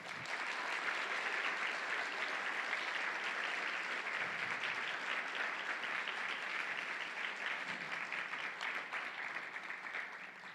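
An audience at a candidates' climate change forum applauds to welcome two student moderators, a sustained, even wash of clapping from a large crowd lasting around ten seconds with no talking.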